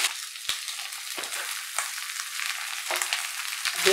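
Vegetables such as potato, pointed gourd, papaya and ridge gourd sizzle steadily in a hot pan, a continuous close crackle broken by a few stirring scrapes, with no talking.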